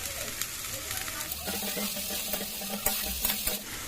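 A ground spice paste of cumin, ginger, garlic and red chilli, with salt and turmeric, sautés in a pan for fish malai curry, making a continuous sizzle with scraping stirs and a few sharper clicks of the utensil.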